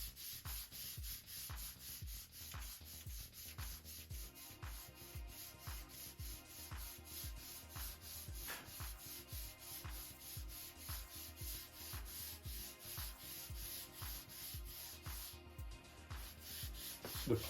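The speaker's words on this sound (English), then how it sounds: "Now I'll sand this to the center." Balsa wood parts of a Carl Goldberg Tiger 2 model airplane kit being sanded, a steady close rhythmic rasping of rapid back-and-forth strokes continuing throughout, with no talk.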